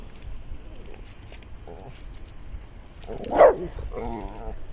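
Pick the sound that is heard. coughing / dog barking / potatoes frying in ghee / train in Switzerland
dog barking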